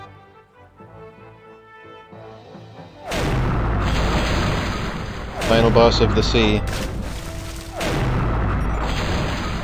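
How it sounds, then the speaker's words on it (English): Cannon fire in The Curse of Monkey Island's final sea battle: loud, dense booming blasts after a quiet opening, continuing in heavy bursts with game effects layered over them, while a person talks briefly. "The sound effects for this cannon."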